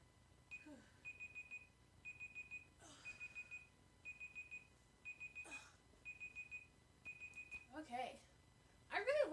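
A Google timer alarm goes off during a splits stretching workout, sounding repeated quick bursts of bright electronic beeps in a regular rhythm. Short vocal sounds and breaths break in between the bursts.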